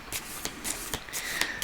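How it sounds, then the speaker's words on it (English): A deck of cards is shuffled in a few quick riffling bursts, soft and close, with brief pauses between the crisp papery flurries. "I do know I have to give it a good shuffle"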